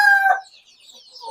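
Day-old chicks and chickens in a coop give a short burst of high peeping and clucking, then quieter chirps after a brief lull.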